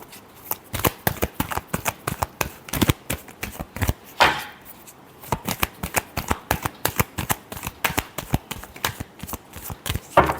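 Tarot cards are shuffled by hand in quick, crisp riffling bursts, close and clear, repeating rhythmically with a brief longer riffle near the middle.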